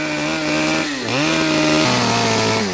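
Chainsaw cutting into an 800-year-old oak tree trunk as a sculptor carves it, a loud close engine whine that dips and rises as the blade bites into the wood, with no talk.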